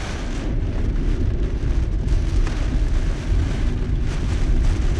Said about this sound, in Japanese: 今だんだんまたね雨が強くなってきたんだけどね